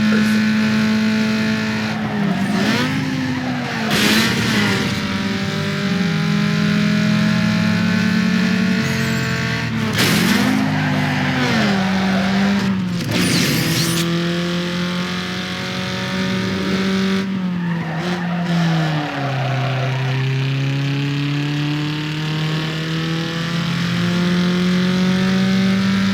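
Street race cars in the video game Need for Speed Underground 2 roar continuously at high revs, with repeated gear-shift dips and bursts of tire squeal and skidding, loud and close throughout.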